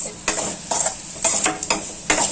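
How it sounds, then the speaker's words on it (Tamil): Vegetables with salt are sautéed in a pan for sambar, a spoon scraping and stirring in repeated strokes over a bright, steady sizzle, close and clear with no talk. "அதை போட்டு நல்லா ஒரு ரவுண்டு வதக்கிக்கோங்க"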